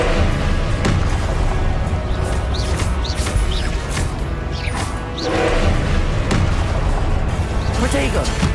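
Spell explosions from the Confringo fire spell in Hogwarts Legacy burst repeatedly amid dense combat effects, loud bangs and crashes layered over continuous game noise and shouted spell names.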